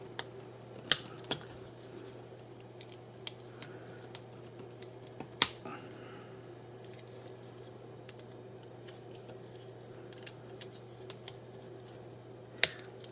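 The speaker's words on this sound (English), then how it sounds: "I don't know how well the clicking's coming off on the video." Plastic joints of a Blokees Transformers Shining Orion Pax model kit click as it is assembled, scattered sharp snaps at irregular intervals over a low steady hum, quiet between clicks with no talking.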